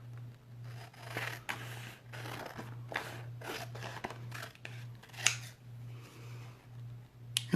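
Scissors snip through a transfer sheet in a quick series of crisp cuts, close and fairly quiet, over a steady low electrical hum.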